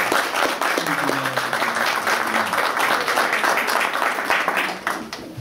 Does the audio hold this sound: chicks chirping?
no